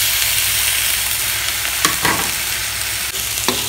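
Spices are stirred and fried in a hot pan for a Singapore-style sardine curry, with a loud continuous sizzle broken by a few sharp scraping strokes of the spoon near the end, and no talking.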